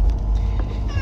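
A cat meows inside a car after a vet visit, one drawn-out plaintive cry over the low rumble of the moving vehicle, close by with no talking.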